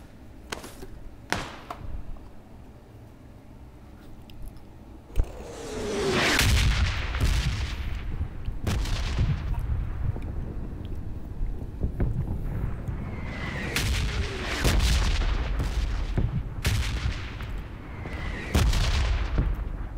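Gunfire in a video game, scattered sharp shots early, then heavier booming reports and impacts repeating over a continuous rumble, loud and close throughout.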